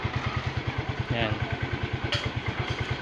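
A motorcycle engine idles nearby with a steady, rhythmic low putter, tapped at its charging pin to power a stove; a brief voice and a clatter sound over it.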